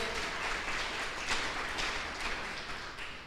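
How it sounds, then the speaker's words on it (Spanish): A church congregation applauding at a Christmas service, a broad, steady roar of clapping that holds evenly from start to end, fairly distant and soft. "Dele un aplauso al Señor"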